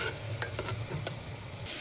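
Coarsely ground tomato frying in a pan gives a steady, soft sizzle with a few stirring scrapes and taps, close but fairly quiet throughout.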